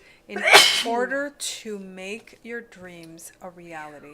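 A single sharp, close sneeze bursts out near the start, followed by someone speaking.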